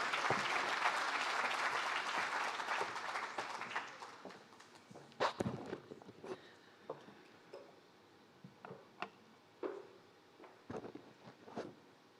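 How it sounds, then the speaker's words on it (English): Audience applause at a lecture hall event for the annual Thabo Mbeki Africa Day Lecture, loud and dense at first, then thinning into scattered individual claps and a few thumps before fading out. "Please, let's give a round of applause for Dr. Geraldine Fraser-Moleketi."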